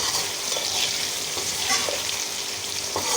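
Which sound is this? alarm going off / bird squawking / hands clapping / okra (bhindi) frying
okra (bhindi) frying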